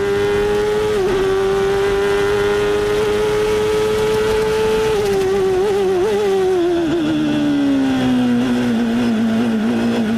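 1993 CART race cars with Chevrolet and Ford engines at Laguna Seca, a loud sustained engine wail holding steady, then pitching down with wavering gear changes as the cars brake and slow, continuous and close.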